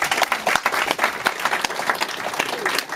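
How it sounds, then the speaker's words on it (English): A group gives a round of applause, dense overlapping claps at close range with a few sharper individual hits standing out across the short burst. "every one of you deserves a round of applause for that"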